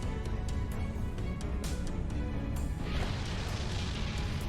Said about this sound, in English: Probably should have been a bit further away from that explosion.